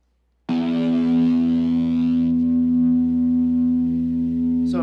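A distorted synth tone made from a guitar cuts in abruptly and sustains, buzzing and harmonically rich, droning on without any break.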